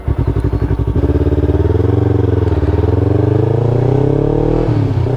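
Yamaha R3 sport motorcycle engine while riding, a loud, close, steady buzzing drone that rises and falls slightly with throttle, with no talking over it.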